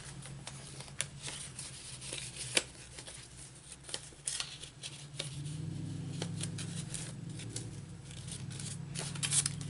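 Scissors snip through paper while a journal's inside cover is being decorated, a run of sharp close cuts followed by a softer rustle of paper being handled.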